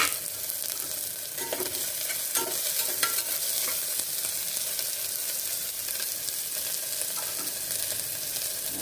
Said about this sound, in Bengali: পেঁয়াজ, রসুন, আদা দিয়ে দিলাম।